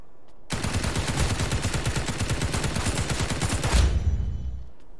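Rapid automatic gunfire in the mobile shooter Lost Light on the Customs map, a dense sustained burst of closely spaced shots lasting several seconds before cutting off, with no talk over it.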